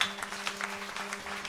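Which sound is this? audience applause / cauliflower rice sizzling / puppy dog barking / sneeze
audience applause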